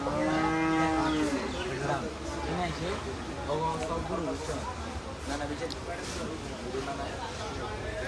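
At a crowded cattle market, a cow lets out a long, loud moo close by, followed by further lowing, amid steady crowd noise and people talking.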